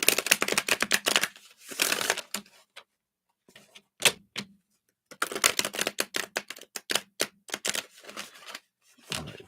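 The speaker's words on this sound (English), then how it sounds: "I was going to shuffle these up a little more." Rapid riffling clicks of cards being shuffled come in several bursts, separated by short pauses, close and crisp.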